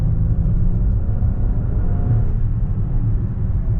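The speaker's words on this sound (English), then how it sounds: "I'm just gonna tap the throttle a little bit." A 2021 Range Rover HSE engine set in Sport Plus gives a steady, loud low rumble that swells slightly as the throttle is tapped, heard alone without talk.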